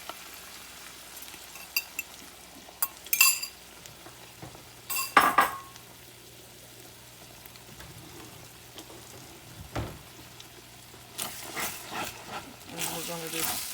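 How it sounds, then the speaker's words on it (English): Eggs and cheese are added to a hot skillet with sausage and potatoes, giving a low sizzle with scattered clinks and scrapes of a utensil against the pan. A person talks over the cooking. "now we're going to add in our eggs with our cheese."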